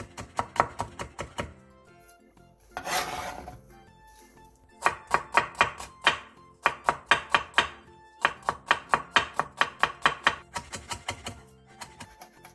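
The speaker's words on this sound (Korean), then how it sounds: "당근 조금도 얇게 채 썰고 대파 1개는 쫑쫑 썰어주세요." A knife chops carrot and green onion on a cutting board for a Korean side dish, in quick rhythmic bursts of close, crisp taps separated by short pauses, with a brief scraping sweep partway through.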